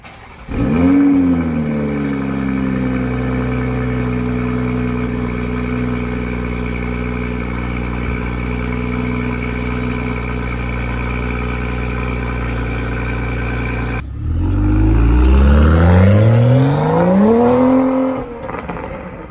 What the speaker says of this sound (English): Put the engine cover back on and it's ready to start.